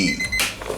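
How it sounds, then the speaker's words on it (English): A kitchen timer goes off with a brief, bright electronic ringing tone that cuts off abruptly into a burst of broadband clatter and noise. "so that's the timer"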